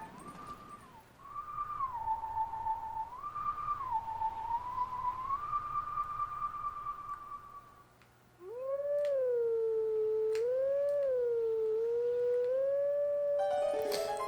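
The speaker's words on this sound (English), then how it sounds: "They're a pretty cool howling stone here, though." A howling stone in The Legend of Zelda: Twilight Princess sounds a wavering, whistle-like melody, first a held, gently bending tone, then after a short pause a louder, clearer phrase of sliding notes, with no speech.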